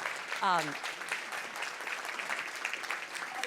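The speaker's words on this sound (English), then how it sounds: "Another round of applause for each of the presentations that you gave." An audience at an International Women's Day panel applauds the presenters with a soft, steady patter of clapping. A brief voiced sound rises near the start.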